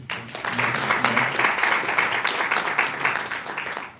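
An audience gives a moderate round of applause at a lecture event for Korean residents and Nepalis, many hands clapping evenly at a fairly soft level for a few seconds without pause.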